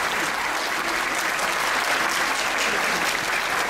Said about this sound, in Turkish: Alkışlarla Furkan'ı davet ediyoruz.